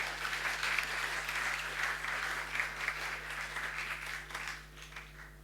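Sustained applause from an audience at a press club luncheon welcoming two guests, steady and fairly close, tapering off toward the end with no talk over it.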